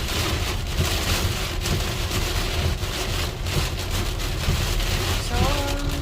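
Steady rain pouring during a thunderstorm in Illinois, a dense continuous hiss of drops on surfaces with a faint low rumble and a brief tonal sound near the end.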